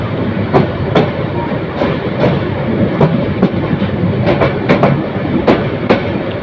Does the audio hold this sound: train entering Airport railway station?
yes